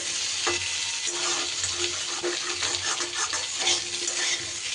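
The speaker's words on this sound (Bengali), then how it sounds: "এবার এটা বেশ কিছু সময় ধরে আমি নাড়িয়ে চাড়িয়ে যতক্ষণ না বেশ আলুর গাটা একটা ভাজা ভাজা ভাব হচ্ছে ততক্ষণ কিন্তু ভাজা ভাজা করবো" Potato pieces sizzle steadily in hot oil in a pan while a spatula stirs them, giving a continuous close crackle broken by soft scraping strokes, with no voices.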